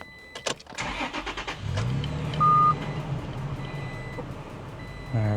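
A manual-transmission 2018 Toyota Tacoma TRD Sport starts up after a few clicks and a chime, the cranking catching into a steady low idle that keeps running nearby, with a warning tone pinging midway.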